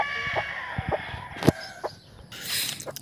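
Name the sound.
chicks of Raptor/Boston gamefowl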